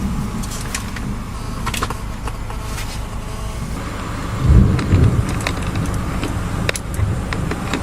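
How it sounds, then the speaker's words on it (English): A Florida summer thunderstorm rolls strong thunder over steady rain, with a deep rumbling crack swelling about halfway through, while faint drops patter nearby. "Listen for this strong thunder."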